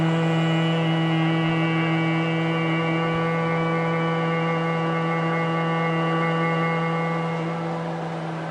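A group hums together on a long exhaled breath during a meditation session, a steady sustained drone holding at an even level throughout with no talking.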